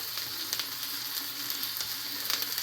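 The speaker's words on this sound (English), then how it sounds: "Just gotta keep this stirring." Mac and cheese sizzles in a hot pan while being stirred, giving a constant crackling hiss. Small scraping taps from the utensil repeat irregularly throughout, with no voices.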